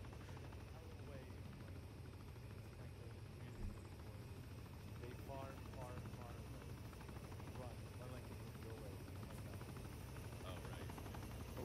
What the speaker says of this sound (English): Helicopter's going to land on it.